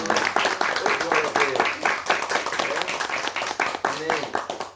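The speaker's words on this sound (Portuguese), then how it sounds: "Aplauda o Senhor em nome de Jesus" A worship congregation claps together in quick, steady rhythm, fairly loud and close, while a preacher's voice carries over the applause throughout.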